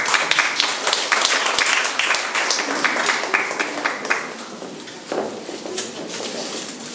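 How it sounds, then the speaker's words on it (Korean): Scattered clapping from an audience at a pastel art exhibition opening's award ceremony, with light crowd murmur and irregular claps continuing for several seconds. "세 명 큰 박수 부탁드립니다"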